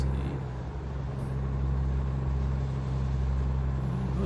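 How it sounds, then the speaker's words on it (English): Low, steady engine rumble and road noise from a truck in American Truck Simulator, with a passing vehicle faintly swelling and fading over the continuous drone; no talking. "that's a nice truck that just passed by"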